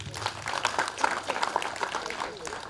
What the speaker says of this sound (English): Clap for the chief principal